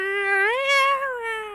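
A drawn-out, wavering meow voiced by a player imitating a cat during a tabletop role-play session, rising in pitch midway and then sliding down, close and clear with nothing else around it.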